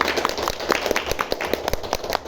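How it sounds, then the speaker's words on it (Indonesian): Scattered hand clapping from a group of students, a fairly quiet ragged patter lasting a couple of seconds with no talking. "Dah semua tepuk tangan untuk kelompok."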